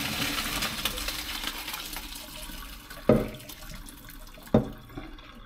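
Boiled vegetables being drained in a small colander at home: running water hisses steadily, with two sharp metallic knocks partway through, close and moderately quiet, with no speech.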